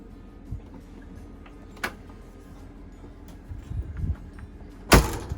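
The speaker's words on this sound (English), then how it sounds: "I'll shut the door, show you how to get out." An Airstream trailer door shuts with one sharp slam near the end, after a few softer handling clicks and rattles in a quiet interior.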